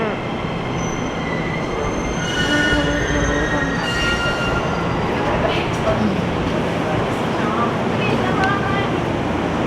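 Train wheels squeal on the rails of a nearly empty train, a loud, steady high-pitched screech over constant rumbling track noise that runs throughout, with no talk.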